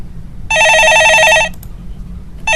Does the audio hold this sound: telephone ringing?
yes